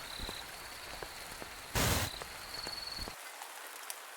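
Steady rain patters and hisses in the video game A Merchant's Promise, with a brief louder burst of splashing near the middle before the low end cuts out and the light drizzle continues.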